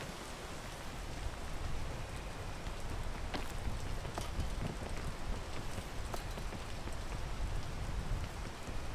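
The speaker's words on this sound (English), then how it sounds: "I'm gonna wait until the rain's done." Steady rainfall in a video game, a dense patter of drops on a surface with a few sharper taps, holding at a constant, fairly loud level throughout with no talking.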